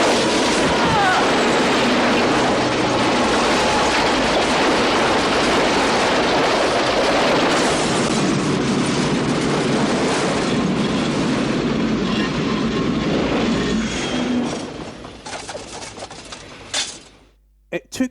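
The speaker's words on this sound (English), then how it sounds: "some guy sitting in a car on a railway track with a train approaching" A train approaches along a railway track in a 1990 movie scene, a loud sustained rumble of wheels and clattering rail noise that fills most of the stretch, then drops away abruptly near the end.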